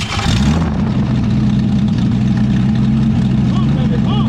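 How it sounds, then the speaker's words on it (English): An abandoned 1966 Ford Mustang engine cranks and runs with a steady low mechanical drone, loud and close, while a person talks over it. "the old man's going to turn it over in a second"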